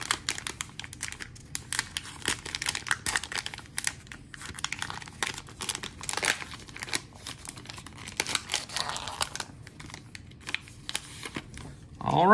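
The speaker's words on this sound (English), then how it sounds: "Today we're going to be ripping into another Panini 2023 Zenith Football Value Pack with 30 total cards to be found." A Panini 2023 Zenith Football value pack of 30 cards gets ripped open and handled, with close crinkling, tearing and rustling in quick uneven bursts throughout.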